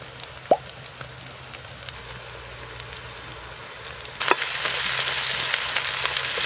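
Crushed dried red chillies and curry leaves fry with onions in oil, a soft sizzle that jumps sharply louder and brighter as the ingredients hit the pan, then keeps crackling steadily.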